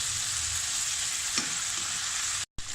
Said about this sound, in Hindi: मैं इसे लगातार इस तरह से चम्मच हिलाते हुए कुक करती जाऊँगी।